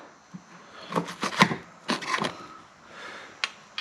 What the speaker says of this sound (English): That's why I'm cutting it.